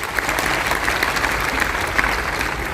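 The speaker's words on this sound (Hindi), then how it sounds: "एक ट्रेन के लिए ताली बजाइए जोरदार" An audience applauding loudly at a motivational seminar, dense and steady clapping filling the room without pause, with no one speaking over it.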